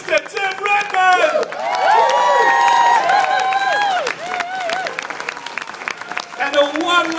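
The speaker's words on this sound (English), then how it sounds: "one last round of applause for the incredible inspiration behind this evening, Leslie and Anthony Malpass." An audience applauds and cheers at an evening event honouring a musician, a dense roar of clapping and whoops with some voices calling out, loud and steady through the middle before thinning toward the end.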